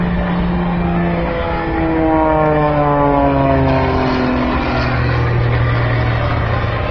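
An aerobatic airplane flies a slow roll at an air show, its engine droning steadily with slowly gliding pitch, loud and continuous across the whole stretch.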